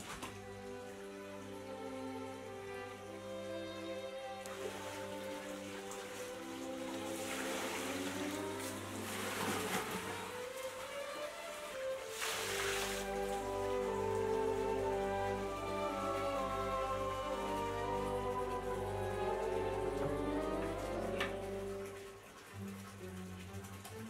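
Split soybeans are washed for tempeh making, giving a continuous rushing, splashing water sound with a steady machine-like hum underneath. It runs unbroken and grows fuller through the middle.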